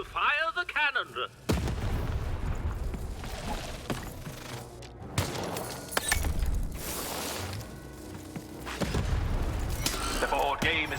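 Heavy cannon blasts in the video game Lost in Random, several deep booming shots with rumbling tails and mechanical clatter between them, loud and close across the stretch.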